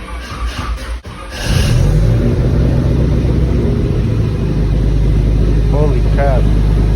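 After a short burst of noise, a car engine starts up following bleeding of the cooling system and settles into a steady, loud, close idle that runs throughout.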